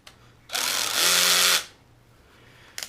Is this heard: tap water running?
no